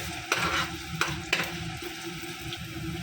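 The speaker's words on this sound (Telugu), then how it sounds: "ఇప్పుడు నూనె కాగుతుంది. ఉల్లిగడ్డలు వేసుకుంటాం. కలుపుకుందాము." Onions frying and being stirred in hot oil for a chicken curry, with a steady sizzle broken by a few sharp scraping stir strokes, close and fairly quiet, no voices.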